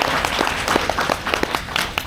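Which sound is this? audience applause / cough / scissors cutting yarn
audience applause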